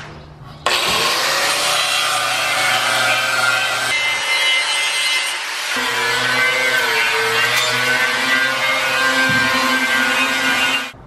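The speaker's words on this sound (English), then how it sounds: "start to grind this belly band and preparing it for welding" A grinder works a steel belly band for a Vermeer BC1500 brush chipper belly pan, preparing it for welding: a loud, close, continuous abrasive whine that dips briefly midway, then resumes until it stops at the end.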